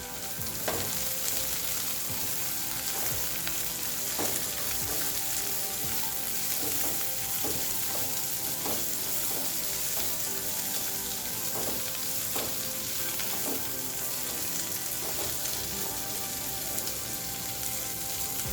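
Carrot, onion, cabbage and capsicum stir-fry in a hot pan for soya chunk fried rice, with a steady loud sizzle and the scrape and clatter of regular stirring throughout, no voices.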